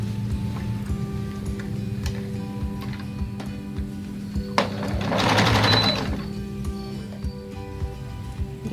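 A sewing machine stitches the back neckline of a girls' frock with a steady mechanical ticking hum, swelling into a louder run of fast stitching midway before settling back to a softer rhythm.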